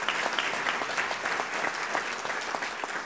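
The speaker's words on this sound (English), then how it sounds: "Y'all give Mike a round of applause." Brief burst of audience applause at a state award ceremony, many hands clapping steadily in a hall without other sounds.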